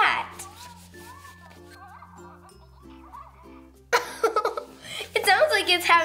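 A Hatchimal Surprise Twins toy still inside its egg gives out a string of electronic chirps, coos and tonal beeps; about two-thirds through, louder voices and laughter join in over it.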